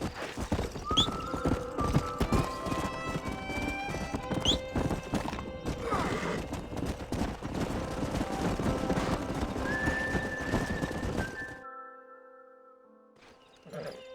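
Horses in the Red Dead Redemption video game, with steady clip-clopping hooves and several neighs and whinnies over a busy game soundscape, ending in quieter ambience.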